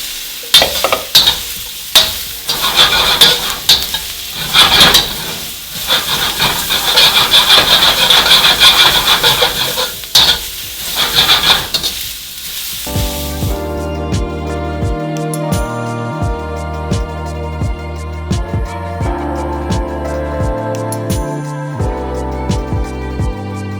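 Mushrooms, snow peas and bean sprouts for lo mein are tossed in a hot pan, giving a loud, continuous sizzle with scraping stirs for about thirteen seconds before music takes over.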